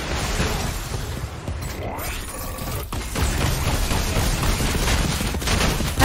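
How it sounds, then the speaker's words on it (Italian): Dense, continuous gunfire and explosive bursts from Fortnite as a rocket launcher fires at a zombie horde, with mechanical clatter and a loud boom near the start, under busy battle noise. "Anzi, ne sparo un po' a quell'orda di zombie che sta di là."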